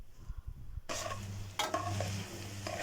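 Minced meat and onion stirred in a frying pan, heard as a loud, close sizzle with the scrape and clatter of a spoon turning the mixture, starting abruptly and continuing without talk.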